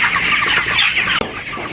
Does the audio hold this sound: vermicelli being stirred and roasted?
no